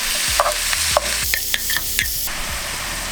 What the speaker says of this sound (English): And while this is cooking and browning, I'll keep an eye on it and keep stirring it.